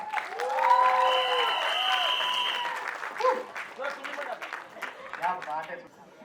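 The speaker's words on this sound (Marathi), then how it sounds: "इथं जोरदार टाळ्या सूरज आणि त्याच्या बहिणींसाठी" Strong, sustained applause from a theatre audience for Suraj and his sisters, dense clapping that swells early then thins, with a voice talking over it.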